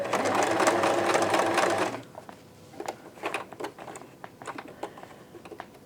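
A sewing machine stitches the bar tack at one end of a four-step buttonhole, running loud and steady for about two seconds. It then stops, followed by faint scattered clicks and handling noises.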